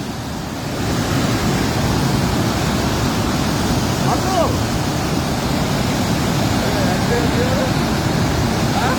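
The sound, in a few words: Randenigala Dam overflow water rushing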